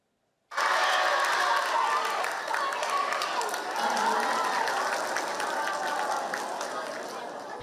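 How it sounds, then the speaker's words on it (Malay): Loud, sustained applause fills a school hall as the top-performing students of a madrasah are announced, starting abruptly and continuing as a dense wash that slowly eases toward the end. "Tepukan gemuruh apabila barisan pelajar terbaik Madrasah Irsyad Zuhri Al-Islamiyah diumumkan sekitar jam 11 pagi tadi di Dewan Sekolah."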